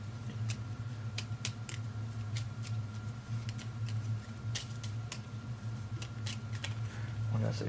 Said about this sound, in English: Shuffle this.